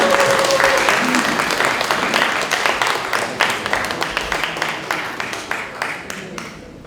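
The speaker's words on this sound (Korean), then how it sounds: "여러분 큰 박수 부탁드리겠습니다" An audience at a library policy concert in Paju breaks into applause, loud dense clapping at first that thins into fewer, distinct claps as it tapers off; a voice is briefly heard at the start.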